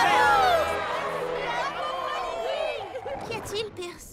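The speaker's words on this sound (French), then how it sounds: "Une vague d'acclamations pour Pierce et Polly Pocket!" A cartoon crowd cheers for Pierce and Polly Pocket, with whoops and excited babble. It is loud at the start and fades into mixed chatter, and voices speak over it.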